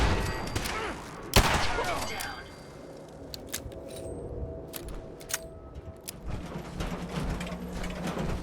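Gunfire in the video game Fallout 4: several sharp shot bursts, the loudest near the start and more scattered cracks afterward, set against a game soundscape with speech present.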